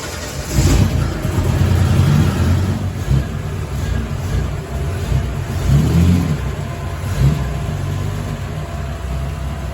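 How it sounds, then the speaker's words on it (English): A Holden Torana engine runs loud and close, revving in surges as the car is put into gear for the first time after repairs to a wrecked body. "This is the first time I've even put it into gear."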